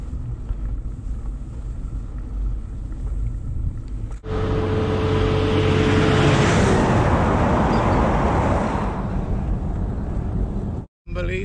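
A road train approaches and roars past on an outback road in Australia, followed by a car, heard from a bicycle as a swelling wind-blown rumble that fills several seconds before fading.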